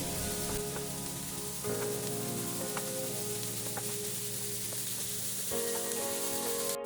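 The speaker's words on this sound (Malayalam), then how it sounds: "പച്ചമുളക്, ഇത് വഴറ്റി കൊടുക്കാം." Green chillies sizzle steadily in hot oil in a pan, with a continuous frying crackle and occasional stirring bumps, close and alone throughout.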